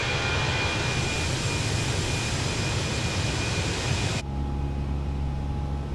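Airbus A320 engines in a flight simulator game during a steep climb after flaps up, a loud steady jet roar that holds constant, then drops to a lower, duller hum near the end.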